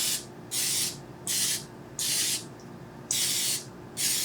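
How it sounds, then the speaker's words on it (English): Non-stick cooking oil spray hisses onto a cupcake pan in five steady bursts, each lasting about half a second, separated by short pauses, close and moderately quiet. "non-stick spray,"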